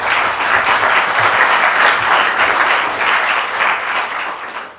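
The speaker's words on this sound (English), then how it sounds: "a round of applause for Jeremy, please" Audience applauding steadily after a talk at a nutrition and WASH conference session, a dense, sustained wash of clapping from a room full of people with no speech over it.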